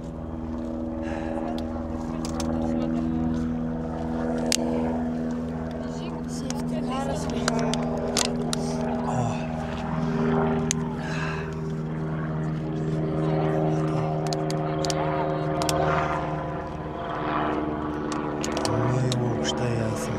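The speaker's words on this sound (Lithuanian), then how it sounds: "O, sraigtasparnis." A helicopter flying over the mountains near Zakopane drones steadily with a rhythmic rotor hum throughout, while people talk nearby.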